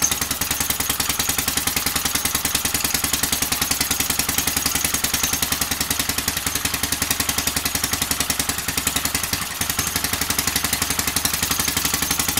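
A small propane-fed generator engine idles steadily and close by, its rapid, even firing clattering on without a break. Near the end a single brief thump cuts into the running.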